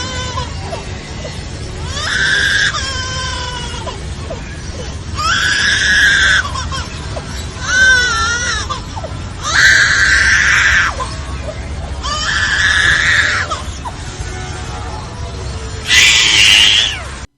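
A lyrebird mimics a crying baby in five loud, wailing bursts separated by short pauses, each rising and wavering like an infant's sobs.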